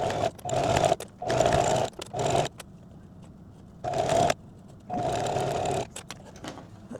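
A sewing machine stitching fabric pieces together runs in several steady whirring bursts, each stopping and restarting with short pauses between, close and fairly loud, with no talking.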